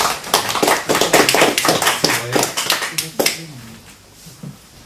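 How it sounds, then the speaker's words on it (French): An audience at a conference on electronic voting in Mulhouse gives a short burst of applause, loud and close at first with sharp overlapping claps, then thinning out and fading toward the end. "On va vous applaudir pour ça."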